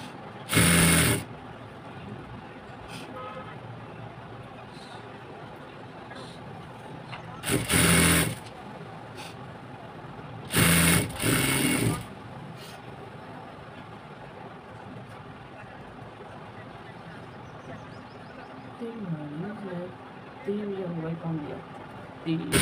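A sewing machine stitches a folded palazzo hem in three short bursts of rapid whirring, with a softer burst near the end, separated by quiet spoken instruction.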